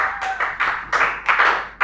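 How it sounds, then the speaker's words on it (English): Brief round of clapping from a classroom audience, a few uneven bursts of hand claps that swell and fade over a couple of seconds, fairly close and with no talking over it. "Please, a round of applause for her,"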